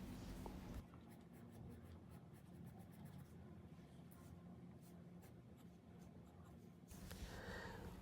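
Graphite pencil strokes scratch across paper while a cartoon duckling is sketched, a continuous close, quiet scraping with short rhythmic strokes and no talking.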